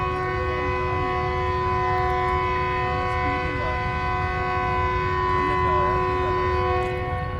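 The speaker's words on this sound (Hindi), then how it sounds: "पाक बिजनेस एक्सप्रेस का डिपार्चर होने लगा है।" Pak Business Express pulls out of a railway station in Pakistan, a steady loud rumble with a sustained horn-like tonal drone over it throughout, while someone speaks over the noise.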